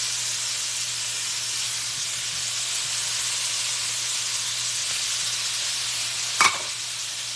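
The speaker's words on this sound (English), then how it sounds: "now I'm going to go ahead and add in those shrimp" Shrimp hit a hot pan for ramen, steady close sizzle and hiss throughout, with a brief clatter near the end.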